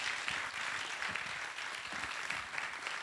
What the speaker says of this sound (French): Applaudissements pour M. Ouedraogo Hafiz.